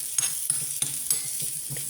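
Crushed coconut fries in a pan with a soft continuous sizzle, broken by a few light scraping stirs at a steady rhythm, close and fairly quiet.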